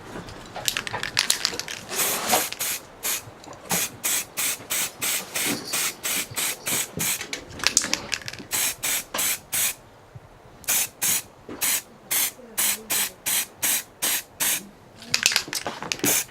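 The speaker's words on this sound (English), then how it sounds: "the rest of it I am going to be painting a dark gray that I already have" Rapid bursts of aerosol spray paint coating tabletop scenery pieces dark gray, many short hissing pulses in quick succession with brief pauses, close and fairly loud, no talking.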